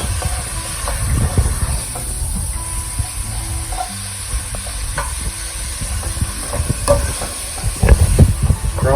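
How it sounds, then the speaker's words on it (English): Chorizo and ground beef brown in a pan for chili jambalaya, a constant sizzle and hiss with repeated scraping and knocking of a utensil breaking up the meat, close and fairly loud. "Crumble that chorizo and that beef up real good."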